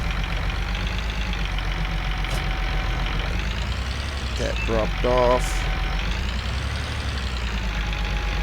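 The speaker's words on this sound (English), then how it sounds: "this tractor here is so good" A tractor engine idles in Farming Simulator 19 with a steady, mid-pitched mechanical drone that never stops. Someone talks over it, and a brief rattle comes midway.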